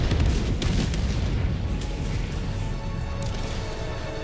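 A Helldivers 2 airstrike pounds an enemy fabricator, heavy booming blasts rumbling continuously and loud at close range, dense low-end roar with scattered crashing debris throughout.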